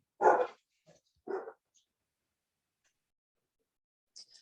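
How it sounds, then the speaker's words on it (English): A dog barks twice, two short sharp barks close by, followed by silence and a faint high yip at the end. "Take a time out here for a dog barking."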